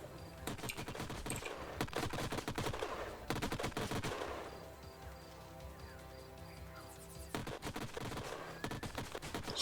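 Automatic cannons fire in the sci-fi strategy game Age of Wonders: Planetfall, in rapid rattling bursts. Three clusters of shots are split by quieter gaps with a faint mechanical hum.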